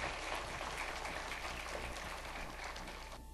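A church congregation applauds to encourage the pastor's wife on her recovery, a steady wash of clapping held at an even level for a few seconds.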